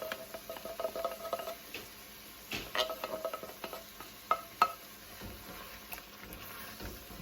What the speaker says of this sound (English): I'm gonna put in the fire roasted tomatoes.